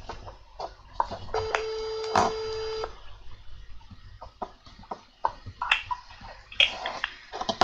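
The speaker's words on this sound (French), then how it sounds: "je vais appeler notre Alex par téléphone. Je vais mettre le haut-parleur." A phone call rings through a speakerphone, a single sustained electronic tone about a second and a half long, fairly loud and close, among scattered clicks and ticks with no voices.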